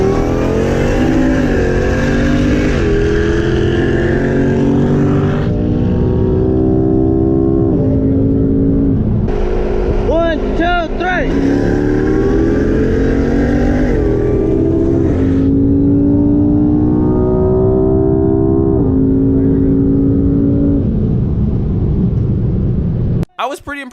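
A McLaren and a tuned E85 Jeep Trackhawk roll race, their engines roaring loud and close, with rising pitch sweeps through repeated gear changes and a brief lull mid-run; voices are heard under the engine noise.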